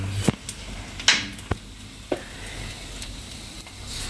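Overripe banana slices sizzle in very hot oil in a pan, a steady soft frying hiss with a few sharp clicks and taps of the pan or utensil, close and fairly quiet with no talking.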